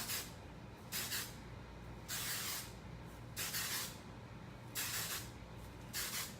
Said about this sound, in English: spray it thoroughly with hairspray.